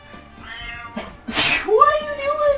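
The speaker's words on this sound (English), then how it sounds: "What the fuck was that cat?" A cat meows loudly and close by, a rising drawn-out call at the end following a sharp burst of noise, with people talking over it in a room.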